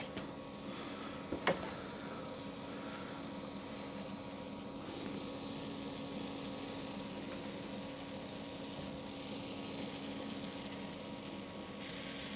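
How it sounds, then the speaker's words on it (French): Crêpes filled with ham and cheese sizzle in a buttered frying pan, a steady, even hiss with a faint hum beneath and a brief clatter near the start, no voices. "on va les cuire une quarantaine de secondes par face, voire même 1 minute"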